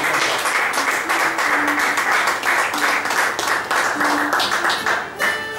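Dense, loud applause from an audience at a Portuguese cantoria singing event in the Azores, continuous clapping close by that holds steady and fades slightly at the end.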